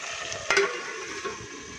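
Cluster beans (guvar) cooking in a covered pan on a gas stove over low to medium flame, with turmeric and salt: a soft steady sizzle and hiss with one brief clatter of a lid or utensil near the middle.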